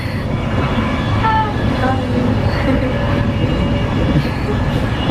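Train carriage rumbling steadily from inside while passengers sit on the floor, a continuous loud low roar of wheels and car noise with faint squeals, no clear talk over it.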